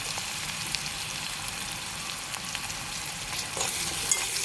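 Onions sautéing in a pan with a pinch of salt for a pumpkin-leaf and egg thoran, giving a steady soft sizzle and crackle throughout with a few brief louder spits, no voices.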